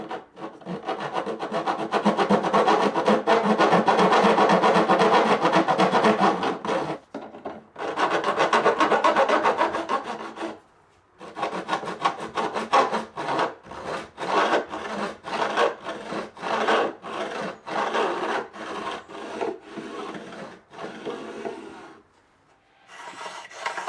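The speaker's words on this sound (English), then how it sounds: "The sound of that grating is what we want to hear." Metal file grating across guitar fret ends on a wooden fretboard, long raspy strokes repeated in bursts with short pauses, close and fairly loud, no voice over it.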